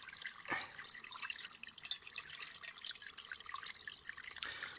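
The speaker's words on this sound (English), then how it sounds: "It's a small stream that's flowing down from up there, and I've just found a space down here to collect it." A small natural stream flowing down a hillside at a wild camp, heard as a soft, steady trickle and light splashing close by, with no voices.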